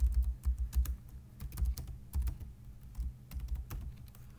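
Close, crisp keystrokes on a computer keyboard while entering a line of C code, coming in quick clustered bursts with short pauses between them.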